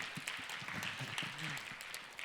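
Light applause from a church audience after a pastor's special lecture, soft and somewhat distant, a brief patter of scattered clapping.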